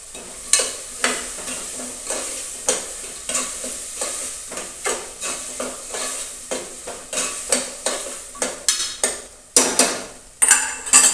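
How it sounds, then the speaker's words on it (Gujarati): A spoon scrapes and stirs guar beans and potatoes in a frying pan in repeated rhythmic strokes over a soft sizzle, close and clear with no talking. "તો તેને પણ આપણે સારી રીતે હલાવી દઈશું"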